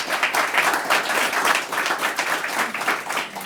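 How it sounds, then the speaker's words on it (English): An audience at a news conference breaks into sustained applause, dense clapping that fills the whole moment at a steady level with no talk over it. "So if you would give them all a round of applause,"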